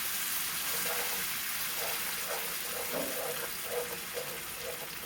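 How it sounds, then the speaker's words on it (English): Juice poured into a cooking pot for a shrimp pot pie filling, a steady liquid stream with faint splashing under a constant hiss, fairly quiet and unbroken. "That juice is going in now."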